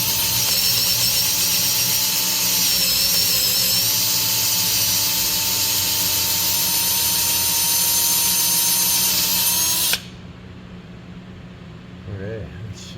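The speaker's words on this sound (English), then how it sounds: "So I'll get that drilled out." Power drill whining steadily while drilling out a stripped thread for a Helicoil repair, loud and continuous for about ten seconds before cutting off, leaving quiet room sound.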